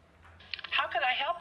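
Coin-operated telephone in the police station of the video game LA Noire, a short ring or dial tone under a voice, fairly close.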